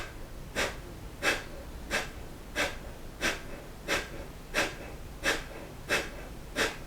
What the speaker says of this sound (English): we're going to do that breath of fire. Rapid inhale, exhale